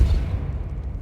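A Depulso pushing spell cast in Hogwarts Legacy lands as a short, deep boom that thumps at once and then fades into a low rumble. No one speaks.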